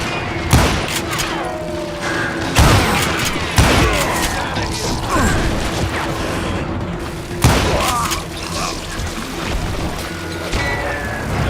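Wild West shootout in a video game, with repeated loud gunshots and booming blasts scattered over a busy battle din, some shots close and sharp, others further off, with occasional voices mixed in.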